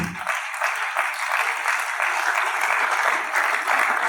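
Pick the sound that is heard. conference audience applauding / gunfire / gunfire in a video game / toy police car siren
conference audience applauding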